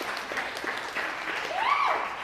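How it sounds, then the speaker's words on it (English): An audience claps in a steady wash of applause, moderately loud and building slightly toward the end, with a brief whoop or vocal cheer rising through it. "I'll take that applause."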